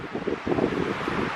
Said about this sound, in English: Boy, it sure is windy.